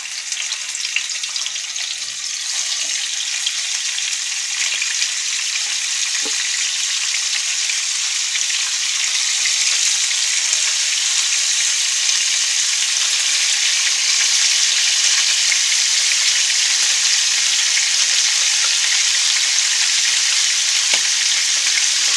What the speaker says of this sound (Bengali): এখন আমি এই মাছের মাথাগুলো লবণ, হলুদ আর ঝালের গুঁড়ো দিয়ে যে মাখিয়ে রেখেছিলাম সেগুলোকে দিয়ে দিব।